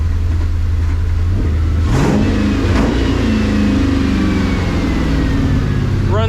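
Budget Ford Mustang SN95 drift car with a loud engine, revving hard in two quick bursts that rise and fall over a rumbling idle, heard up close.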